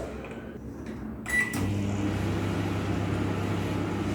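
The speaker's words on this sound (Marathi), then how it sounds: "आता मी मायक्रोवेव्ह ओव्हनमध्ये ठेवते दोन कप चहासाठी सुरुवातीला आपण देणार आहे दोन मिनिट मायक्रोवेव्ह हाय पॉवर" A microwave oven heating two cups of tea on high power beeps and clunks, then settles into a steady, even hum.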